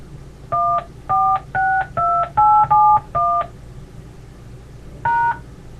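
A series of seven quick telephone keypad tones beeps in steady succession as a PIN is entered, then after a pause one more tone sounds, clear and close.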